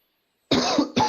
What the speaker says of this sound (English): I did not mean to turn my mic on to cough.